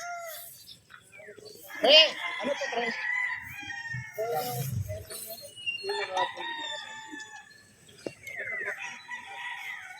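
A gamefowl stag, a gray Boston three-way cross straight comb at a game farm, crows loudly and close with a rising cock-a-doodle-doo, while other birds cluck and call around it and someone talks.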